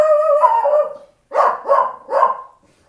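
A dog barks indoors at dogs being walked along the sidewalk outside, giving one drawn-out, howling bark, then three loud, evenly spaced barks close by with no other sound.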